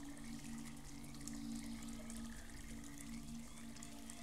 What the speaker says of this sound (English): This waterfall.